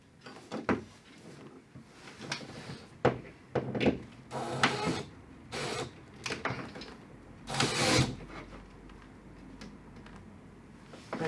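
Screw gun driving screws into a TV wall mount for a Samsung Q95T, with intermittent whirring bursts and clicks spread unevenly over several seconds at close range, no talking.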